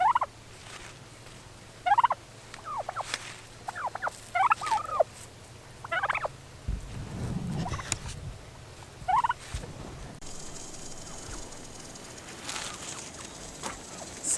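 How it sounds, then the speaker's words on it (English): A firstborn Turken rooster gobbles and crows outdoors, several sharp, separate calls at moderate distance, with quieter background noise and a brief rumble between them. "that is the firstborn Turkin rooster"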